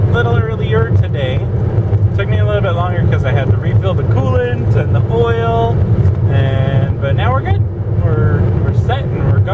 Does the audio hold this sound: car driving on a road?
yes